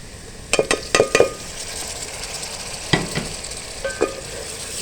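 Tomatoes dropped into a frying pan of mixed vegetable curry, a few sharp clattering stirs and splats over a faint steady sizzle, then quieter scrapes.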